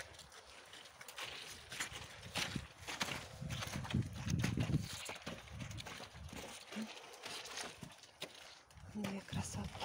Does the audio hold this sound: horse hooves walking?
yes